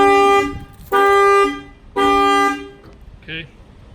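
A factory car alarm horn, set off by an added shock sensor, blares three loud, evenly spaced honks of about half a second each, then a short fainter chirp.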